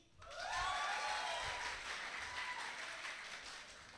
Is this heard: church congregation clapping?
yes